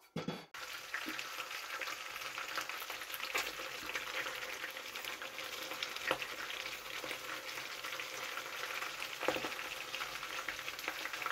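Peppers fry in oil in a pot, giving a continuous close sizzle and crackle with a few sharper pops and clatters as they are stirred.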